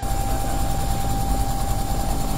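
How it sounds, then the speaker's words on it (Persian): Air ambulance helicopter circling while trying to find a place to land, its engine and rotor drone loud and steady throughout, with no talk. "تیم پروازی این بالگرد تلاش میکنه جای مناسبی پیدا بکنه برای فرود هلیکوپتر."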